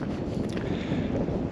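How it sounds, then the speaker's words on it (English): Wind gusting across a microphone on a hiking trail along the Jura crest, a steady close rumbling roar with no other sounds. "Wind is definitely picking up."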